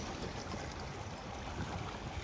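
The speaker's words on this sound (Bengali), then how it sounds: "ট্রলার যাচ্ছে তার জন্য দেখেন কি রকম ঢেউ দিতেছে" River waves stirred up by a passing trawler wash steadily against the bank, a continuous soft broadband swash with no speech.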